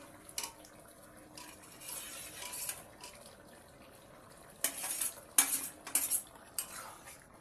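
Paneer goes into a pan of softened capsicum and is stirred, with a metal utensil scraping and clinking against the pan in irregular bursts, close but fairly quiet, and no voices.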